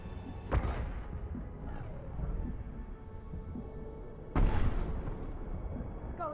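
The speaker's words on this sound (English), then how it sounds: "Watch out, flashbangs!" Flashbang grenades going off in the video game Mass Effect 2, two sharp bursts with ringing tails over a rumbling combat soundscape, loud and close.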